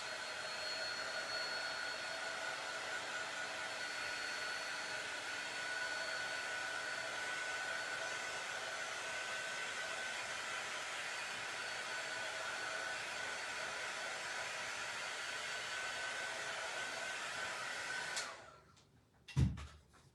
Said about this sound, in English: speed up the process with my heat gun, which is always nice